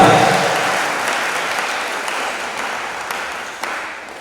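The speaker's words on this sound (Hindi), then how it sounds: "ताली भी नकली है, असली बजाओ असली" Audience applause at a Jain religious sermon during a Siddhachakra Mahamandal Vidhan gathering, a dense, steady wash of many hands clapping that slowly fades over a few seconds, with a few sharper claps near the end.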